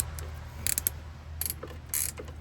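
Wrench clicks on a truck brake slack adjuster on a Mack, a few quick ratcheting bursts of metallic clicks close by, with short pauses between them and no talking.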